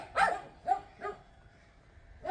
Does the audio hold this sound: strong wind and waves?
no